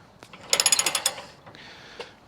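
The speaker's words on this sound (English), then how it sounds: "Go slow with your wrench." A wrench ratchets in a quick burst of about eight sharp clicks while bearings are pressed on a Jeep Gladiator swing-out rear bumper, followed by a softer metallic scrape and a final click.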